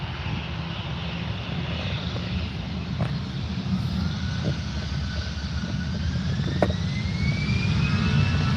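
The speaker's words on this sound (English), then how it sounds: "Touching down now, Singapore A350 from Houston" A Singapore Airlines A350 jet touches down at Manchester Airport, its engines a steady broad roar with a slowly rising whine, heard at a distance and without talk.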